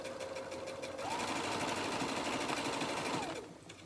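A Baby Lock Allure sewing machine stitches quilt strips, its needle chattering in a rapid even rhythm that speeds up for a few seconds and then slows, close but fairly quiet.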